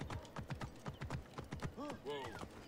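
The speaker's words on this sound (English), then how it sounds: "I don't think you're allowed to take a, a horse into the temple." Horse hooves clip-clopping at a steady walk in the Assassin's Creed Origins video game, followed by a short whinny, fairly close with a voice speaking over it.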